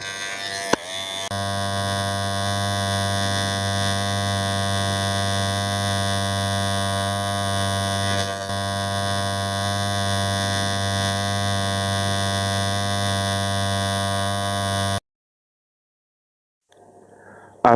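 Electric hair clipper buzzing steadily and loudly during a round fade haircut, a constant mains-like drone for about fifteen seconds that cuts off abruptly, then silence before a brief restart.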